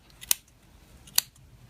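Two crisp snips of small scissors cutting yarn, close and quiet, about a second apart with near silence between.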